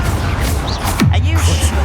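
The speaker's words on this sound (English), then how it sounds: "Expelliarmus!" Expelliarmus spell fired in Hogwarts Legacy, a sharp burst with a falling whooshing sweep, cast amid a spoken incantation and other game voices.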